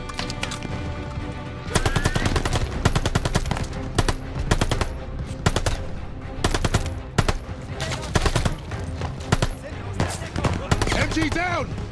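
Machine gun fire in Call of Duty Vanguard hammers out in long, loud, rapid bursts from start to finish, with soldiers' shouts mixed in around the shooting.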